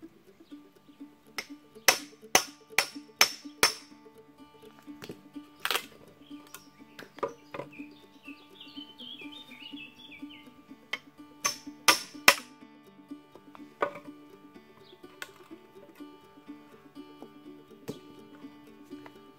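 A hatchet driven by hammer blows into pallet wood, sharp woody knocks landing in quick bursts of three or four with pauses between, close and fairly crisp in a quiet workshop.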